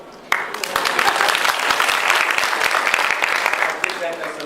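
An audience at a youth leadership event breaks into sudden, loud applause that continues steadily for several seconds, with a few sharp claps standing out.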